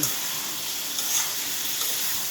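Fried potatoes added to a hot pan, giving a steady, moderately loud hiss of sizzling oil that continues evenly throughout with no voices.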